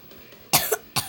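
A person with a dry throat coughs twice, close and sharp, with a brief throaty catch between the two bursts.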